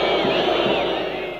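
Stadium crowd at halftime of a 1999 Brazilian league football match, Vitória against Botafogo, a dense continuous roar of fans booing, loud and sustained throughout.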